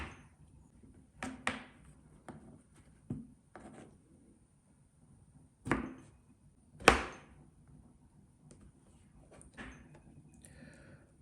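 A knife chops tempe into small pieces on a cutting board: a handful of sharp, irregular knocks spaced by quiet pauses, close and fairly loud, with no talking.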